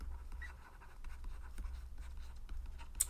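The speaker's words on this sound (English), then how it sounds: "It's hard to write on a white pad neatly." Pen writing on a white pad, a faint continuous scratching of strokes over low background hum, with a slightly sharper tap near the end.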